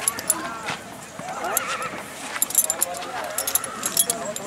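A horse whinnies at a horse fair in Sarangkheda, India, among crowd chatter and people talking, with jangling bits of tack and a few hoof clops close by.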